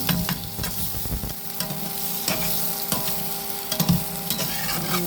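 Ground cumin and pepper frying in a pan along with turmeric, a constant crackling sizzle with periodic scraping stirs of a spoon against the pan, close and fairly loud, no voices.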